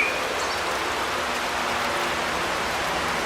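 Hard rain falls steadily outdoors near an old 1948 Chevy farm truck, a dense, even broadband hiss of drops that stays loud and unbroken with no voices.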